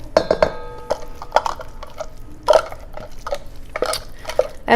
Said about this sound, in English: So dump everything into the bowl.